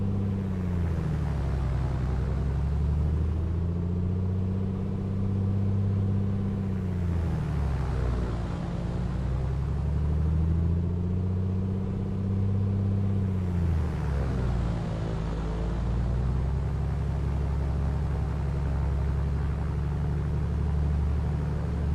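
A Piper Comanche light aircraft engine in Microsoft Flight Simulator 2020, held at 1500 RPM, a steady low droning hum whose pitch swells and dips in slow cycles, with no talking.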